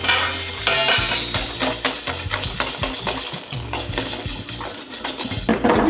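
Tempura batter is stirred in a bowl with rapid, uneven clinks and scrapes of a utensil against the bowl's sides, close and busy throughout with no voices.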